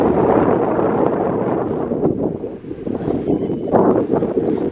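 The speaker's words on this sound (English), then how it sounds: "A bit windy as you can hear" Strong wind buffets the microphone outdoors in the Shetland Islands in April, a continuous, loud roar with gusty surges, no voices over it.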